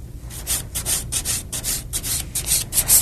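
A nail file rasps rhythmically across fingernails, bevelling the sides and top in quick, close, scratchy strokes that repeat steadily with no talking.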